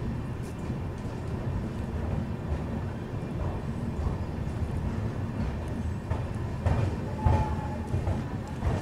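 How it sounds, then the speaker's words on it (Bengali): A passenger train, the Jammu Tawi Express, pulling out of Shahjahanpur Junction: a steady low rumble of rolling wagons heard from on board, with a faint tonal squeal and a few clanks near the end. "ছেড়ে দিল আমাদের ট্রেনটি শাহজাহানপুর জংশন থেকে।"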